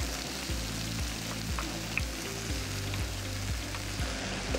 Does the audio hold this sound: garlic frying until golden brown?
yes